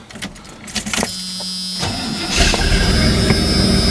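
A 1984 Chevy truck engine cranks and fires up after a fuel pump repair, a brief whir and catch followed by a steady, loud idle close to the cab roof.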